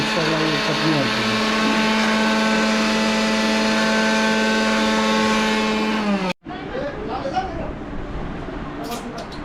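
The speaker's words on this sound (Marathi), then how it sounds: "मिक्सरला चटणी घालतो." A mixer grinder runs while chutney is made during family cooking, a steady droning whine holding for about six seconds before cutting off sharply, followed by people talking.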